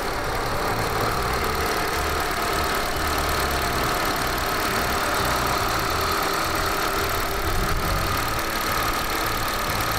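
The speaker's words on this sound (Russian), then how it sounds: "Работа двигателя у этого автомобиля отличная." A 2012 Honda CR-V engine idles steadily with a continuous even hum and broadband mechanical noise, heard close and alone with no talking.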